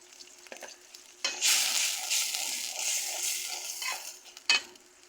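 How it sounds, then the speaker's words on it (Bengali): Ginger and garlic fry in a pan while being stirred, a crackling sizzle rising abruptly and holding steady with scraping strokes, then easing off near the end with a final clatter. "আদা রসুন করে নেড়ে চেড়ে নিচ্ছি ভালো করে।"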